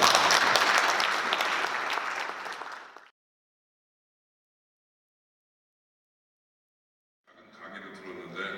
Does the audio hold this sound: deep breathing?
no